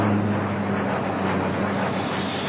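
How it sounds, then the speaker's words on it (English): An airplane passes overhead on the island of Sark, a steady broad engine roar holding loud and even throughout with no talk. "we have airplanes come over all day and disturb us"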